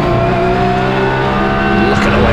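Porsche Cup race cars at the Zolder circuit roar loudly with a sustained high-revving engine drone and shifting harmonic pitch, while a commentator talks over the racing.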